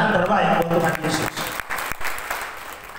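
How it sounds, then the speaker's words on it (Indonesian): Applause from a church congregation during a sermon, clapping mixed with voices and a sustained tone underneath, irregular and fading toward the end. "Beri tepuk tangan terbaik buat Tuhan Yesus"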